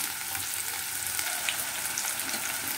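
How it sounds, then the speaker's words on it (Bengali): Chopped onion frying in hot ghee with a little cumin for dhaba-style lasuni palak paneer, giving a steady, close, even sizzle with faint crackles and no talking throughout. "পেঁয়াজটা ভাজবো। ঘি দিলে কি হয়, খুব সুন্দর একটা গন্ধ হয়।"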